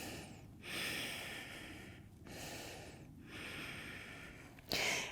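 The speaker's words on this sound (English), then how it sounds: "Breathe in and out through your nose." Slow, deep breaths drawn in and pushed out through the nose during a strength-focused yoga session, each long airy inhale and exhale close and clear, repeating in a steady rhythm with brief quiet gaps between.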